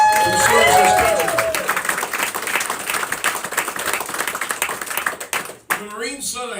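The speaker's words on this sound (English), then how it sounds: "let's hear a round of applause for everybody who serves this country" A comedy-night audience applauds for military servicemen, with loud, dense clapping and some cheering that builds and then fades. A voice then starts talking over the thinning claps.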